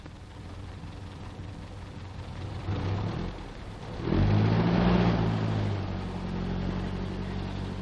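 A cable-laying lorry pulls away with its engine rising as it accelerates, a steady mid-pitched motor rumble that swells louder midway and holds, with no talking.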